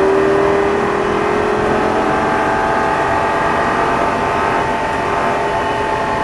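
A high-revving Lamborghini Gallardo LP 560 engine drones steadily and loudly on a track, its pitch climbing gradually as it accelerates, with no voices.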